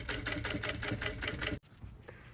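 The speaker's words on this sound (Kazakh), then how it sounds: "Соңына дейін осылай тігіп аламыз." A sewing machine runs steadily while stitching a vest seam, a fast even mechanical whir lasting about a second and a half before stopping abruptly, leaving quiet room noise.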